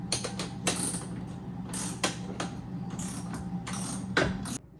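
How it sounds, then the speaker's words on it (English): Ratchet cranking a nut tight on a Triumph TR6 adjustable trailing arm bracket, a string of close, crisp clicking bursts with short pauses between strokes, with a steady low hum underneath and no talking. "now we can tighten the nut completely"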